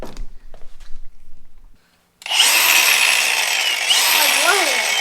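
Milwaukee power tool grinding on a cardboard box: after a brief murmur of voices and a moment of quiet, a loud, harsh, steady high-pitched grind starts abruptly and holds with slight shifts in pitch.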